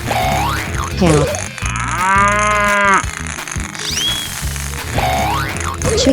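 A cartoon cow gives a long, loud mooing call in a 3D animal slide game, set over bouncy looping music with boing-like effects before and after.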